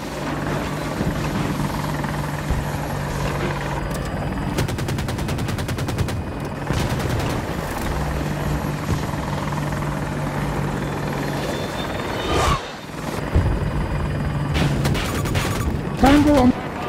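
An attack helicopter in Battlefield 2042 drones continuously, its rotor hum mixed with bursts of machine-gun fire and scattered booms from the game battle, and radio voices call out over the action.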